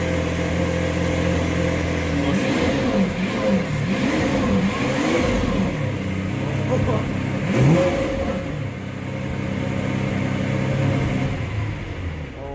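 A $300k Lamborghini engine starting and revving, a loud close mechanical roar with repeated rising and falling revs over a steady idle, with people talking over it.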